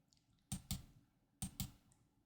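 Two quick pairs of keystrokes on a computer keyboard sound as sharp, close clicks separated by a short pause, with no voices over them.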